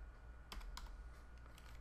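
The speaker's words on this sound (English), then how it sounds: "And we're going to be typing this in." A few quick computer keyboard keystrokes, entering a search into Google, heard as soft clustered clicks near the middle, faint over a low steady hum.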